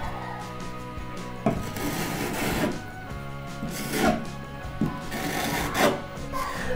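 Filler being sanded by hand around an IKEA toilet roll holder rusted onto a bathroom wall, giving a steady run of scratchy, abrasive rubbing strokes, close and fairly loud, with no talking.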